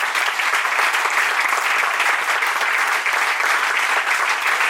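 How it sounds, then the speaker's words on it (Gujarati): Dense, steady applause from a large audience at a Swaminarayan temple anniversary festival in Vadodara fills the space, loud and continuous without letting up. "જોરદાર તાળી પાડો 25 લાખ રૂપિયાની"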